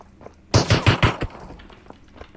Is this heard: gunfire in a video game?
yes